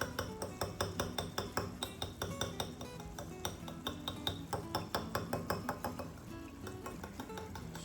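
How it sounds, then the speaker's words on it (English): A whisk beats egg yolks in a bowl with a fast, regular run of bright clinking taps against the side, steady and close for most of the stretch before tapering off near the end. "Start the whisking."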